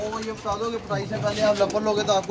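Pigeons coo in soft, repeated throaty calls close by, overlapping one another, with someone talking over them.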